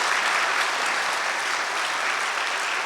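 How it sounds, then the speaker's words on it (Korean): A church congregation at a Sunday worship service applauds in a steady, dense wash of clapping that is even and sustained throughout, with no voices over it. "하나님께 영광의 박수 한번 올려드리도록 하겠습니다."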